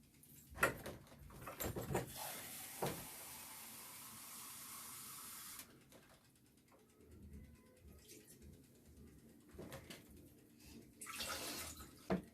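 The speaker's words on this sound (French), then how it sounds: "Ensuite, mon verre doseur. Je dois mettre 1 litre d'eau." Tap water running into a measuring cup while a litre is measured out for homemade laundry detergent, a steady rush lasting several seconds, then quieter splashes and clinks.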